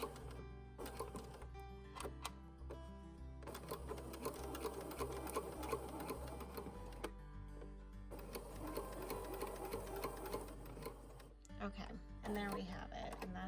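A sewing machine back-stitches a seam on a cotton romper, running in quick mechanical bursts with brief pauses between, close and clear, with a voice speaking over parts of it.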